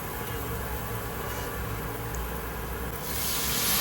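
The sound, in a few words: water added to hot frying masala in a pan, sizzling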